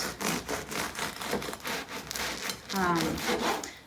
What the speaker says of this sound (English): So I'm going to slice up this bread.